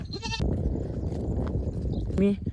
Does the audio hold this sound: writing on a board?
no